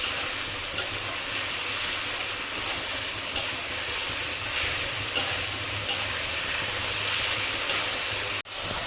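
Ginger and garlic paste frying in oil for a potato and papaya mutton curry, a steady close sizzle and hiss with occasional sharp pops and spatula knocks throughout.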